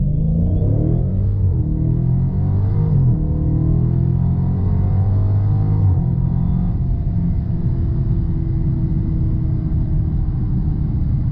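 A car on a hard 0-60 acceleration run on new tires makes a loud, steady engine rumble with heavy road roar that runs unbroken through the whole stretch, with no voices.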